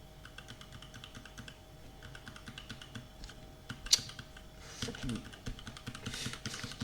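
Fingers typing on a computer keyboard nearby, a rapid uneven run of light key clicks with a sharper clack partway, under faint background talk.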